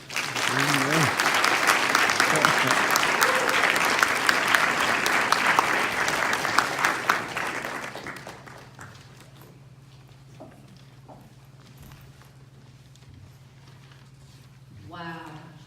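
Loud audience applause fills a hall after a motivational speech on setbacks and leadership, sustained for about eight seconds before dying down to scattered claps and low room murmur.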